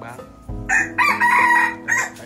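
A junglefowl rooster crows loudly and close, a strong multi-part call with rising and falling phrases, rising above a quiet background.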